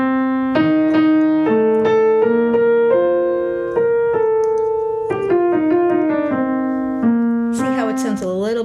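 Piano playing a melody on an Indian raga scale in jazz style, single notes stepping up and down in a clear, loud, unhurried line, ending with a brighter flourish.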